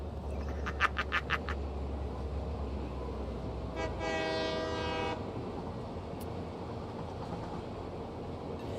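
A train rolls with a low steady rumble while its horn gives a burst of short toots and then one longer blast, in a train-driving video game.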